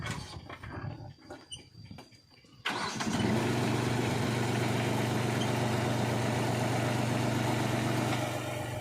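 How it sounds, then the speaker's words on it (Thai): Quiet background noise, then a 24-horsepower tractor engine starts and settles into a loud, steady idling rumble that continues to the end, on a sugarcane farm during herbicide spraying. "โดยรถไถ"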